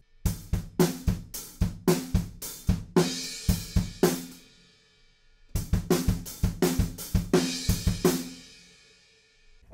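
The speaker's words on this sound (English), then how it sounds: "I caught one extra sneaky crash cymbal in there on beat 2 of the beat" A drum kit plays a rock beat in two short bursts of rapid, punchy hits with crashing cymbal accents, including an extra crash on beat two, clear and close, separated by a brief pause.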